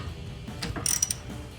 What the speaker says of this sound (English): So we'll go ahead and break those free with our 18mm.